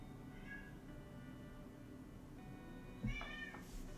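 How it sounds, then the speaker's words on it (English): Pet cat Toby meowing, one faint meow early on, then a louder drawn-out meow near the end, indoors over a steady low hum. "My cat's screaming at me."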